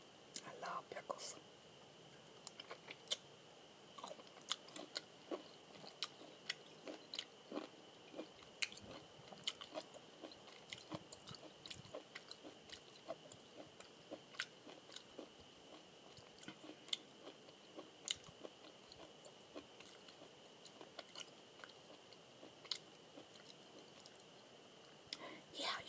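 Someone chews crunchy pickles up close, making many small wet crunches and bites spread through a long stretch, with faint whispering under the chewing.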